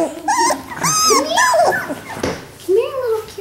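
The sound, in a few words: Australian Labradoodle puppies whimpering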